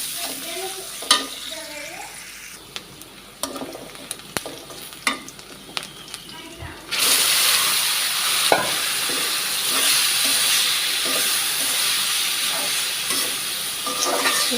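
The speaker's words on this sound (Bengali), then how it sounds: "এটা ভালো করে ভাজা ভাজা, একবারে ভাজা ভাজা করতে হবে" Banana flower frying with raw cumin in a pan: quiet stirring clicks at first, then a loud, steady sizzle that begins abruptly midway and holds to the end.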